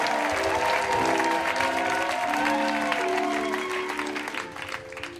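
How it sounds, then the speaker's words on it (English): Loud, sustained clapping from a live storytelling audience greeting a performer, many hands together with some cheering, while sustained musical tones play underneath and the applause fades slightly at the close. "round of applause for Brandon Burkhart"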